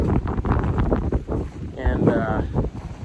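Gusty wind on a wet, muddy farm field in damp winter weather, buffeting the microphone in loud rumbling surges, with a person speaking briefly partway through.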